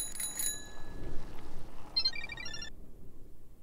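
A bicycle bell rings in a quick double burst of bright metallic dings, fairly clear over low background noise on a street, with no talking.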